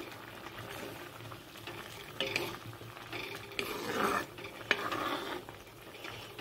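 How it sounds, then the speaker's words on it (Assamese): A pot of fish and vegetable curry simmers quietly with low bubbling, broken by a few stirring scrapes and light clinks of a utensil against the pot. "চব্জিখন উতলি গৈছে, মাছ দি দিছোঁ।"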